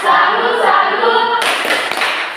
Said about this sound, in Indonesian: sekarang kita berikan tepuk salut untuk diri sendiri ya